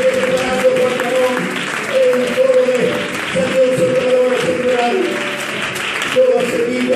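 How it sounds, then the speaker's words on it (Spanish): A church congregation applauds during a sermon, a sustained wash of clapping and crowd noise mixed with voices and a tonal hum throughout. "Te puedes aplaudir."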